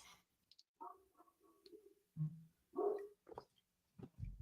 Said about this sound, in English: He barked at something.